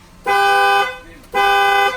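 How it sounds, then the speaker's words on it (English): Two loud, sustained horn blasts, each about half a second, separated by a short gap; a harsh, buzzy electronic car-alarm honk close by. "Panic button, if you hold the button down, you can fire the alarm off."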